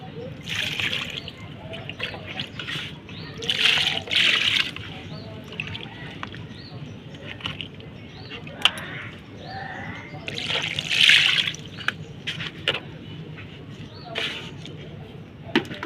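Water is poured over newly planted tomato seedlings in a home garden, with bursts of splashing and trickling between quieter stretches and a faint bird now and then.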